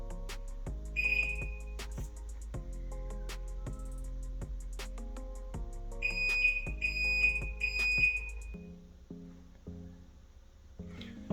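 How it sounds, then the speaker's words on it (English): High electronic beeps from a MyQ garage door device, first a single tone and then a quick run of four, over a soft steady tonal background. "you will hear a series of beeps"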